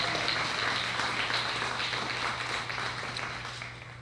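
Steady audience applause for leaders' speeches at an evening event, a continuous even patter of many hands that gradually fades over a few seconds.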